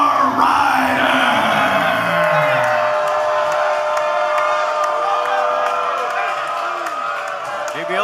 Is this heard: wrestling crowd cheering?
yes